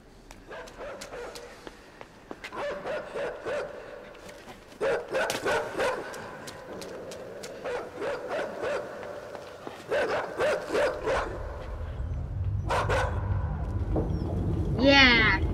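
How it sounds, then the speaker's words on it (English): Small dog in the video game INSIDE barking and yelping in repeated short bursts, fairly close and loud, followed by a rising whimper at the end; a low rumble builds beneath near the finish. "Oh, I'm crying, the little dog is crying."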